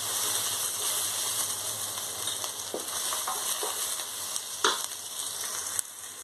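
Bay leaf, cardamom and cinnamon fry in a generous amount of oil with chopped onion and garlic, a steady close sizzle broken by a few clinks and scrapes of stirring.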